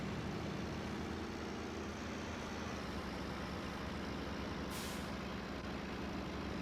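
Modded Heritage C69 Marauder truck in SnowRunner, a steady loud engine drone running throughout with a brief hiss partway through.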